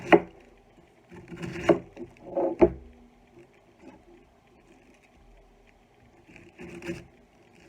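A few crisp knife cuts and scrapes through cabbage on a wooden board, scattered and close, with quiet pauses between strokes.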